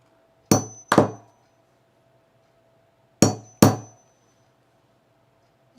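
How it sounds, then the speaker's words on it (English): Four sharp metal-on-wood whacks from a hammer striking a hole-cutting die on a table while sewing cargo pants, landing in two quick pairs with a pause between, close and loud against a quiet room. "I'm going to put this on my table and just whack it over here."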